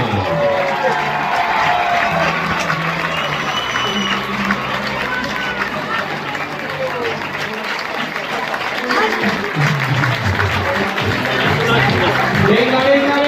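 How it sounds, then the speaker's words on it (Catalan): Loud, steady applause and cheering from a large crowd at the Copa Catalunya 2025 women's football trophy ceremony for FC Barcelona, continuous throughout with whistles and shouts rising over the clapping. "Fort aplaudiment"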